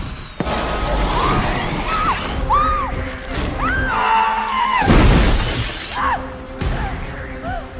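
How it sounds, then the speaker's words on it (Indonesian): Cracked glass shattering after a roll of tape is thrown at it, a loud close crash with scattered tinkling fragments, accompanied by dramatic music and shrill tones. "ia pun langsung melempar lakban ke kaca yang sudah retak"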